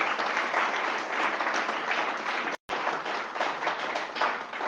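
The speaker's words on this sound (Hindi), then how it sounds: "आप सबसे अनुरोध करता हूं कि जोरदार तालियों से उनका स्वागत करें" Applause from an audience at a Mewar Group of Institutions event in Ghaziabad: steady, dense clapping from a crowd, fairly distant and even, with a brief cut partway through.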